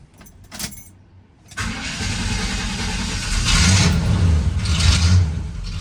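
An old abandoned project pickup truck with a short glass pack exhaust cranks briefly, fires up after about a second and a half and settles into a loud, rumbling idle close by.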